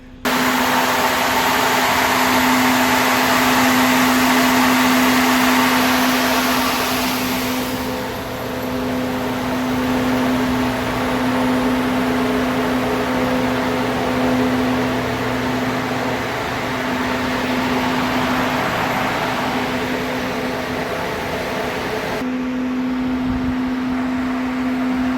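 Peanut drying machinery runs loudly outdoors, a continuous droning engine hum with a steady low tone and broad roar that holds for the whole stretch, dipping slightly partway through.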